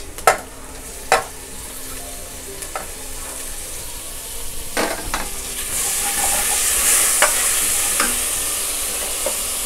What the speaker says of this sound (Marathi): आता आपला कांदा चांगला आळत आलाय। आता मी हे टोमॅटो घालते